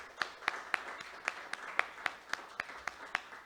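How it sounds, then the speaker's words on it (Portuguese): Church congregation applauding during an evangelical service in Americana, São Paulo: sparse, distinct hand claps in a loose rhythm, fairly quiet and slightly distant, with no voices over them. "Uma salva de palmas ao nosso Senhor Jesus Cristo."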